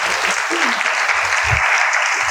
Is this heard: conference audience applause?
yes